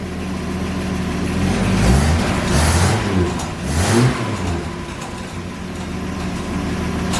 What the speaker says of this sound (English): Give us another rev.